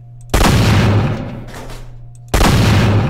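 Loud close gunfire from the Minecraft HBM Nuclear Tech mod blasts through a window in two long roaring bursts separated by a short pause, each a dense rattling boom that slowly fades.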